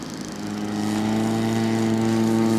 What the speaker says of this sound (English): And the pilot's taxiing it out for takeoff.